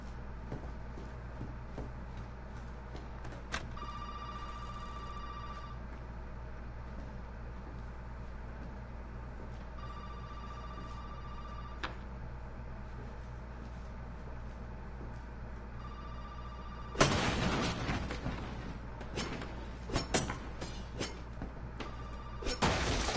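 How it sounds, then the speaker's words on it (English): In Resident Evil 7, a telephone rings loudly in repeated trilling bursts over a steady low drone, then a burst of crashing, clattering noise takes over toward the end. "Phone's really loud right here."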